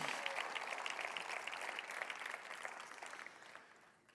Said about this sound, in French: Comment on a une bonne main d'applaudissement pour la parole de Dieu?